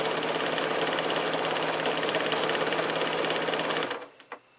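Sewing machine quilting through four layers of a quilted oven glove, a steady fast motor whir with rapid needle clatter running continuously, close and loud, then stopping near the end with a few faint clicks.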